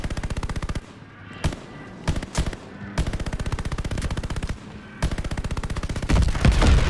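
Automatic weapons rattle in the Call of Duty: Vanguard campaign at the Battle of Midway, with several long rapid bursts broken by single shots, loud and close, then a heavier boom near the end.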